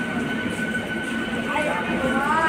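A train at a busy railway station rumbles and hums steadily and loudly at close range, with a faint squeal of metal.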